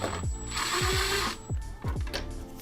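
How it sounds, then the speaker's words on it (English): A hand ratchet fitted with a T25 bit works a bolt loose on an Audi S4/S5 during a charge pipe install, giving several close, rhythmic clicking strokes under a steady background hum. "take a T25 bit, and we're gonna go ahead and take off this bolt right here"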